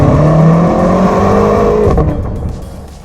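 A 2022 BMW X6M Competition with its M Sport exhaust revs loud and close, a deep sustained engine roar that climbs in pitch, then eases off and fades toward the end.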